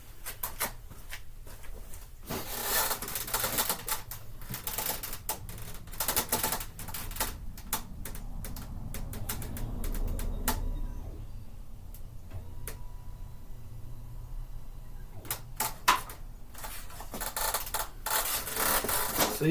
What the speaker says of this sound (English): So you can hear the pump running.